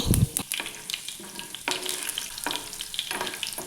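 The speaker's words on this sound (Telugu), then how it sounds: "ఆయిల్ బాగా హీట్ అయ్యాక ఆవాలు, జీలకర్ర, పచ్చిశనగపప్పు, ఎల్లిపాయలు అలాగే ఎండుమిర్చి కూడా వేసుకొని కలపండి" Mustard seeds, cumin, chana dal, garlic and dried red chillies frying in hot oil for tomato pickle, a steady close crackling sizzle with a sharp pop at the start and repeated stirring scrapes through the pan.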